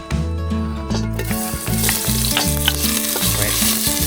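Frozen squid for adobo sizzles loudly in hot oil, with a continuous crackling fry broken by rhythmic scraping stirs, close up and without speech.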